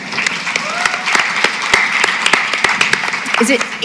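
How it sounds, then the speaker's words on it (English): A crowd at a healthcare talk claps loudly, with sharp individual claps standing out over a dense layer of applause, and voices shouting and whooping mixed in. "A quick little shout and clap for them"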